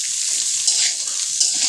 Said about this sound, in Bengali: তো আমি সব সবজিগুলো দিয়ে দিলাম, দিয়ে আমি এবার ভালো করে কুক করে নেব